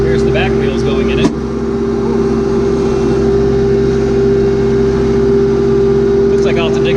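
A tractor fitted with a grapple drives through a pecan orchard while its back wheels drop into an irrigation trench. It gives a steady, loud, droning engine hum with a sharp clunk near the start and some faint voices in the background.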